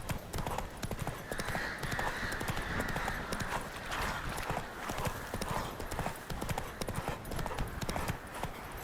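A horse gallops in the video game The Witcher 3, its hooves drumming in a fast, continuous clip-clop rhythm, loud and close, with occasional snorting and no talking.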